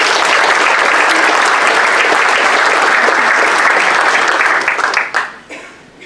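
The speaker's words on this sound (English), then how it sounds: "give Tonya a very nice round of applause" Loud, dense applause from a live audience at a workshop in Monterey, sustained for several seconds and then quickly fading out near the end.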